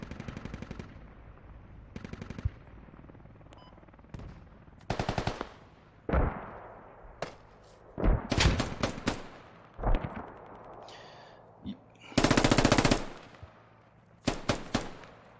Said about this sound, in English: Airstrike into hab.